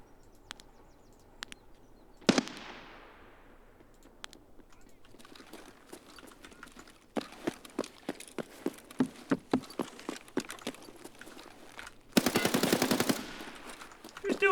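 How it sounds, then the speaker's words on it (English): Gunfire in the video game Single Player Tarkov: a loud single shot, scattered lighter clicks, then a rhythmic string of evenly spaced shots and a dense, rapid automatic burst near the end, with faint talk in the background. "Who's doing the shooting?"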